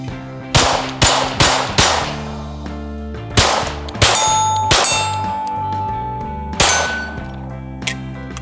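Gunshots from a Talon Sei at an outdoor range ring off steel targets, giving sharp cracks followed by long metallic clangs and lingering rings, spaced in irregular groups of close, loud hits with no talking.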